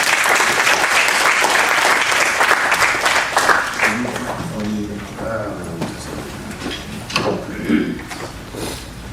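An audience at an academic conference welcomes a keynote speaker with loud, sustained applause that fades after about four seconds, followed by scattered clapping, shuffling and faint talk.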